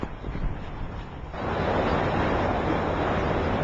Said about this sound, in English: the power you can hear and the water you can see shooting out of this dam is on the Mackenzie River